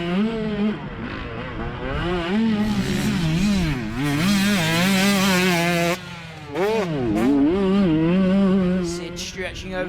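A 125cc two-stroke motorcycle ridden flat out around a motocross track, its engine wailing and climbing through the revs, dropping briefly on shifts and corners and then screaming again, loud and close throughout.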